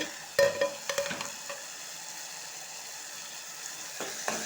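Tomatoes sizzle in a pan as they are stirred: a few soft utensil clinks and scrapes at first, then a faint, steady sizzle alone.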